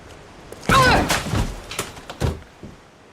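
A locked door is forced open in an audio drama: a loud heavy thud and splintering crash, followed by several smaller knocks and bangs as it gives way, close and sharp against a quiet background.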